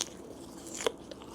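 A single close, crisp crunch from biting into a young winter jujube fruit, with faint chewing noise around it and no voices.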